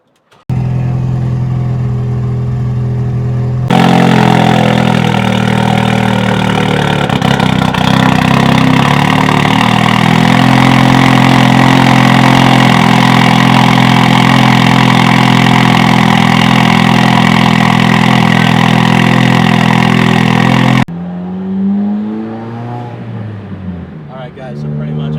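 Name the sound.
Ford Focus RS turbo engine idling rough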